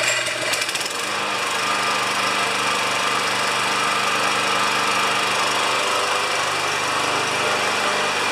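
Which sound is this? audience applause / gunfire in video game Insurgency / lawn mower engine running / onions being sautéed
lawn mower engine running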